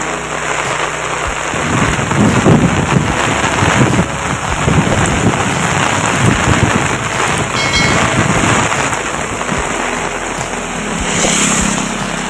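Heavy monsoon rain pours down during an afternoon storm in Sangamner taluka, Maharashtra, a loud, constant roar of downpour with deep rumbles of thunder rolling beneath it, no voices heard.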